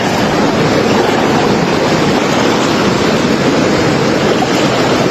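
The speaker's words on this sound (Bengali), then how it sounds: "পানির স্রোতের আওয়াজ" A stream's current rushes at Debotakhum, a slippery rocky gorge. A loud, steady, broadband roar of flowing water continues unbroken throughout.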